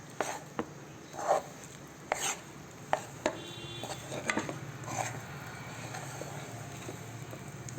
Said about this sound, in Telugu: ఇట్లా మధ్యలో కలుపుతూ ఉండాలి.